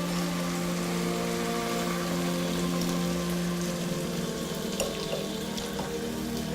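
Prawns and onions simmering in cream in a pan, a steady close sizzling and bubbling hiss that continues unbroken at an even level, with a low hum underneath.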